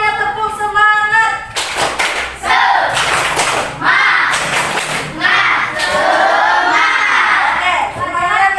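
A school classroom of students performs a patterned spirit clap, bursts of group clapping and chanting voices in rhythmic phrases, loud and close, following a teacher's spoken cue.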